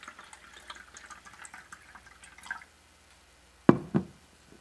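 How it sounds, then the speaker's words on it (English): A couple of small drops of pH test liquid land in natural spring water after a soft stretch of faint tapping, quiet and close. "Two drops of water pH liquid."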